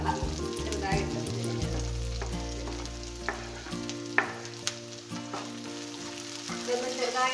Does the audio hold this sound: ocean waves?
no